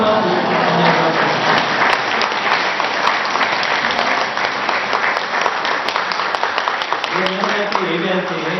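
A church congregation applauds during a worship service, producing steady, full clapping throughout, with voices rising beneath it near the end.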